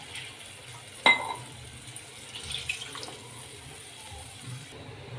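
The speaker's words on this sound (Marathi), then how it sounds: "थोडंसं पाणी ॲड करूया" Water is added from a tap to a besan pithla mixture with onions in a kitchen, opening on a sharp clink and followed by a gentle running and filling sound.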